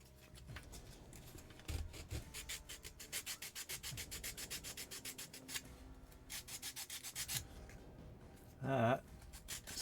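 Rhythmic hand sanding of a commissioned prop, a run of quick scratchy strokes in steady bursts with pauses between, close and fairly quiet, with a brief louder scrape near the end.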